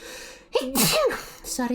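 A single sharp sneeze bursting out in the middle of a voiced tabletop game session, close and loud, followed by a short spoken word from the same person.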